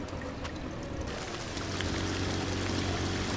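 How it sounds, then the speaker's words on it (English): A steady rush of water blasted from a hose onto a flooded city street in Drain Sim, the gushing rising and holding loud and continuous with a low machine hum underneath. "just blasting water into the street here"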